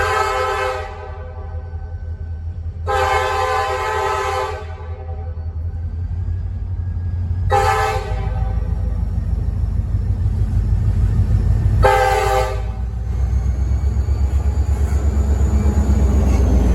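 A Kansas City Southern local freight train headed south into Artesia, led by KCS 2902, a gray GP40-2 LW, rumbles past with a steady low engine drone while its horn sounds four long blasts in a repeating pattern, loud and close.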